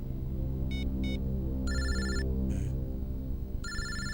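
An office telephone ringing in short electronic bursts, a couple of quick chirps followed by longer trilling rings, over a low steady background hum.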